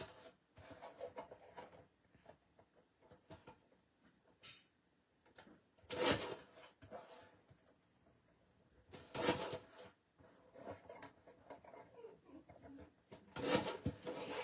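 Paper sentiment reading "Hello, pumpkin" cut down on a paper trimmer for autumn cards: three distinct crisp slicing strokes, each about a second long and spaced a few seconds apart, with quiet rustling and handling of paper between them.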